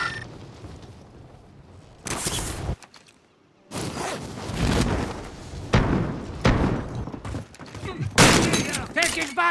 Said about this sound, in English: Contact! Taking fire!